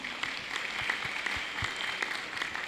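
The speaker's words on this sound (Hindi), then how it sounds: "मुखराम भैया और टीम के लिए जोरदार तालियां।" Audience clapping at a spiritual seminar gathering, a dense, moderately loud patter of many hands with scattered sharper claps standing out over about three seconds.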